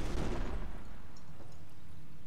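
Cannon fire from the video game Company of Heroes, with a loud booming blast at the start that fades into a rumbling tail and then near quiet, with no other sounds following.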